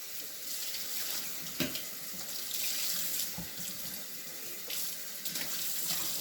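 Tap water runs steadily into a sink while a Pampered Chef batter mixer part is rinsed, a constant close splashing hiss with a few brief louder splashes and knocks.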